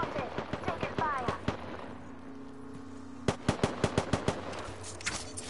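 Rapid gunfire in the video game Apex Legends rattles out in two quick bursts separated by a short lull, each crack sharp and close, with voices talking between.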